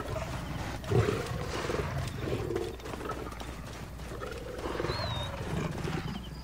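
Lions roar in the wild, the deep rumbling calls rising and falling in several long swells over a continuous outdoor background, moderately near, with a stronger burst early on and no speech.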